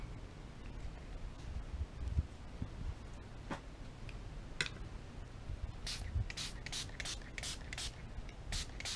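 Scattered clicks and brief scrubbing noises, then a rapid run of several short spray bursts of cleaner from a bottle onto a Taurus 1911 pistol slide, close and crisp.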